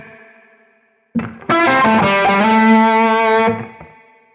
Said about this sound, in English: it kind of creates almost a little bit of a thickening or a chorus effect